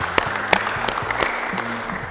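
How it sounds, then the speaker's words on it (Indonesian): An audience applauds a speaker at a panel discussion on palm oil products, steady moderate clapping with several sharper individual claps, over a low background hum and faint voices. "Boleh kita berikan tepuk tangan yang luar biasa."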